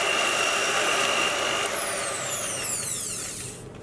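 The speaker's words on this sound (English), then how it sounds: "Now we're just going to whisk this on low speed because we just want to combine it very carefully." An electric mixer whisks cheesecake batter with corn flour on low speed, a steady close motor whine that drops in pitch and slows as it winds down toward the end.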